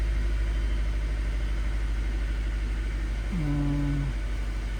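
A 2013 Nissan Sentra with a rough idle and suspected coil pack or spark plug faults runs in a steady, low engine hum, with a brief tonal beep or whine near the end.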